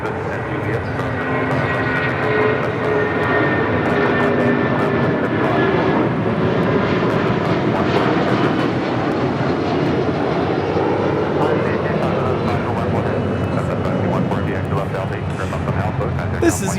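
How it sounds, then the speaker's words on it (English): A United Airlines Boeing 757-200 departs Los Angeles International Airport for Boston, its engines making a loud, sustained roar from start to finish while voices chatter nearby. "This is United Airlines 2609 departing to Boston on a 757-200"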